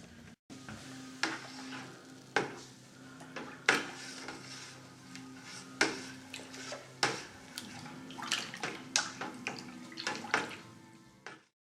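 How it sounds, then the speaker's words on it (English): A spoon stirs yeast into beer wort in a plastic fermentation bucket, giving a series of irregular knocks and scrapes against the sides amid soft liquid swishing, close and moderately loud. "we can start gently stirring in the yeast into the wort"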